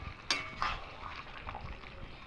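A spoon scrapes and clinks as it stirs a cooked vegetarian curry of potatoes and Malabar spinach in a pan, giving a few distinct knocks over a soft, quiet background.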